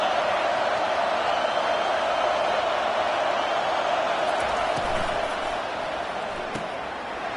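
A large football stadium crowd roars in a steady, dense wash of cheering for the defense on a big third down, sustained and loud throughout before easing slightly near the end.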